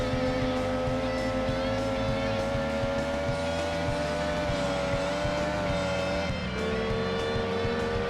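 A Mazda Savanna RX-3 engine races in Gran Turismo 2, a steady, loud high-revving drone with strong harmonics that climbs in pitch, then drops sharply as it shifts near the end.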